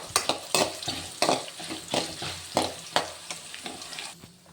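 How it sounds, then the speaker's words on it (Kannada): Masala spices dry-roasted in a pan over a low flame for paneer butter masala, with a run of repeated scraping stirs and a soft sizzle, close and fairly loud, with no voices. "ಫಸ್ಟ್ ಈ ಮಸಾಲೆನೆಲ್ಲನೂ ಲೈಟಾಗಿ ಹುರಿದು ತೆಕ್ಕೊಳ್ಳೋಣ ಸಪ್ರೇಟಾಗಿ"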